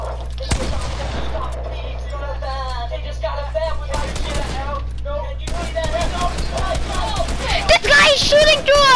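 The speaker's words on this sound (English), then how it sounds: "This guy is shooting through a blank wall." Gunfire in the video game Fortnite, a few sharp shots and short volleys under a steady game hum, with a person talking throughout.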